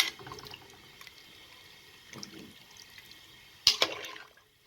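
Water is added to mutton fry in a cooking pot on a medium flame, a quiet watery sloshing followed by a brief louder splash near the end, with no speech.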